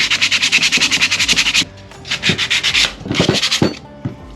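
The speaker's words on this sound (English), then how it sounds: "I'll take some 150 grit sandpaper and I'll just briefly kind of brush over the areas that still have paint" A sheet of 150 grit sandpaper rubs over painted aluminum in quick back-and-forth strokes, loud and close, first in a fast even run, then after a short pause in slower, uneven bursts.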